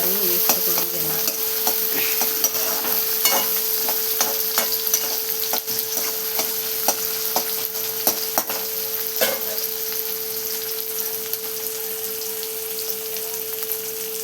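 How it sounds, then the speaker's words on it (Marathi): Onion and tomato sizzle in a pan with mustard seeds and cumin, stirred steadily with a spoon that scrapes and taps the pan. A strong, continuous frying hiss runs throughout, close and without talk. "कांदा टमाटर टाकायच्या नंतर असं छान मिक्स करून घेणार."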